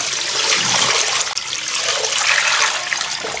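Water pouring into a pot holding a big and four small beef hooves, a loud, steady splashing gush that runs continuously from start to finish with no talking.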